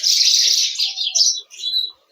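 Sparrows give a few quick, high chirps close by, one run and then a couple of shorter calls against near silence.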